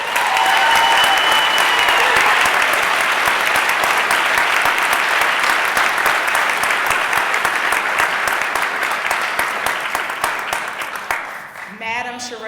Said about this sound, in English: Join me in a round of applause to warmly welcome and recognize the 100th Mayor of Philadelphia.